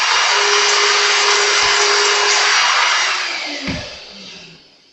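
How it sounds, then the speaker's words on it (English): Loud steady whine of a vacuum cleaner used on a Fender Stratocaster guitar body during restoration, a constant broad rush that fades and drops off near the end, with a few brief knocks. "Sorry about the vacuum, guys."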